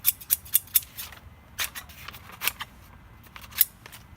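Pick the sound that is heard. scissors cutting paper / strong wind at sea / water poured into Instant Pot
scissors cutting paper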